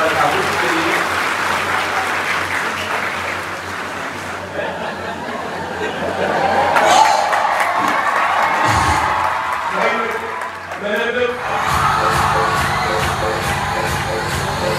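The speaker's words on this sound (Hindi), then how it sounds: "एक बार जोरदार तालियां माननीय प्रकाश ठाकुर जी के लिए" A school foundation day crowd at an inter college gives loud sustained applause with some cheering, dense clapping building and swelling over about fifteen seconds, with a brief lull and a thump partway through.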